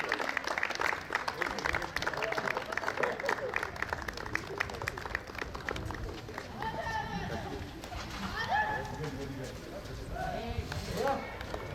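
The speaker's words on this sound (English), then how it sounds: "Please give them a big round of applause." Applause for medal winners at a sports championship ceremony, a steady wash of outdoor crowd clapping that runs throughout, with chatter and voices mixed in.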